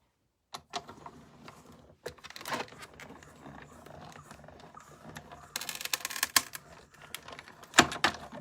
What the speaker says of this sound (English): That's the sound of a crisp new die cutting plate